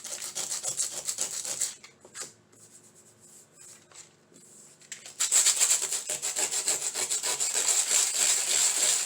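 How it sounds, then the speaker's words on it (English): Sandpaper rubbed back and forth over a glued, glittered craft surface, giving rapid rhythmic scratchy strokes, close and loud, with a quieter lighter patch in the middle before vigorous sanding resumes. "now take your sandpaper and just sand over the area that came up with the glue"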